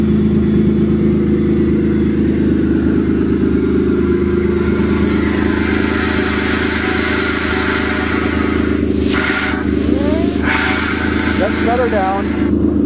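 A van towing a caravan runs at high speed toward a lake, its engine droning steadily and loudly with a rising whine, and a few brief sharp bursts near the end.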